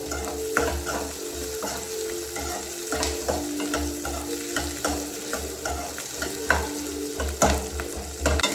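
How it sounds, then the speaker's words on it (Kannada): Onion and chilli frying in a pan for egg curry, a continuous close sizzle with rhythmic scraping and stirring of a spatula against the pan throughout, no talking. "ಆನಿಯನ್, ಚಿಲ್ಲಿ ಎಲ್ಲ ಚೆನ್ನಾಗಿ ಫ್ರೈ ಆಗಬೇಕು."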